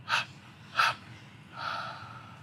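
Three slow, deliberate exhalations during a guided meditation, two short forceful breaths followed by a longer, softer one, close and quiet with no talking.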